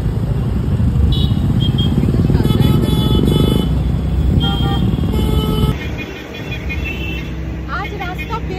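Motorbike riding out from an office onto a busy city street, engine drone steady and close with passing traffic and scattered horn toots around it.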